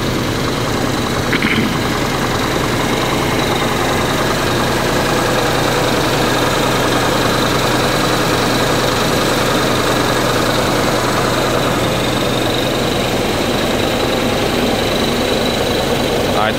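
An ALS 270 intercity bus engine idles with a loud, steady low rumble close by, while people talk nearby.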